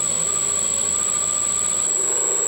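A Sieg mini lathe fitted with a brushless motor runs steadily at close range, giving a constant whirring drone with a sharp high-pitched tonal whine over it.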